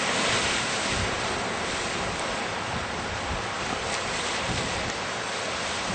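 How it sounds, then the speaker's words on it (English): Wind-driven waves on Yellowstone Lake wash and crash continuously, loud and close, with heavy wind buffeting the microphone throughout. "Look at the waves on Yellowstone Lake."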